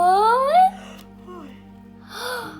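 A voice imitates a hippopotamus yawning in a children's bedtime story: a rising, drawn-out vocal groan, then a low breathy exhale and a short sighing tail, close and in a quiet room.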